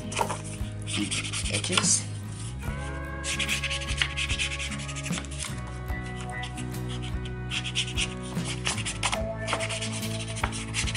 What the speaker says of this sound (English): flip it over and trim it off with a craft knife